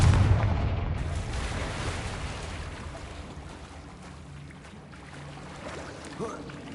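A Confringo fire spell blast from Hogwarts Legacy opens with a deep booming burst that rolls off into a fading rumble, followed by quieter ambient game sound and a faint later thump.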